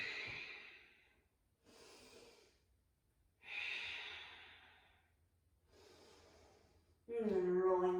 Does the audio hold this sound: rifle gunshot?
no